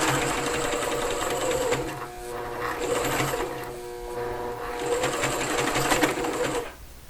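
Sewing machine stitching a lotus petal near a zipper, running in fast bursts of close, rattling stitches with short pauses between runs before stopping.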